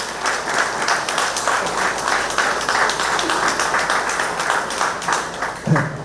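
An audience at a civic centre outreach event gives a hearty, sustained round of applause as a speaker is called to the podium, a dense, steady clapping that stays loud throughout.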